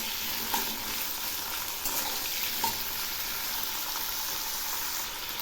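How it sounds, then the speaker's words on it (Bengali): Potatoes and nigella seeds fry in mustard oil in a pan, a steady moderate sizzle broken by a few scraping stirs, with no voices. "এবার আমি প্রথমে আলুগুলো দিয়ে দিচ্ছি।"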